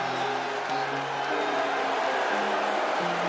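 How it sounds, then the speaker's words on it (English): Crowd at a rap battle event reacting with booing as a performer comes out, a steady broad roar of many voices with faint musical tones underneath. "And the crowd booing him"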